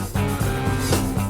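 The outro of a rock song, with a driving rock riff jumping between low and high Gs under a backbeat snare and an open hi-hat, dense and loud in a short burst.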